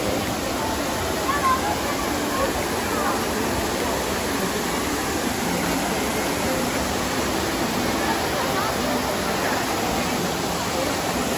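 Water of the Trevi Fountain in Rome splashes and rushes in a steady, broadband roar that stays loud and constant throughout, with crowd voices mixed faintly into the wash.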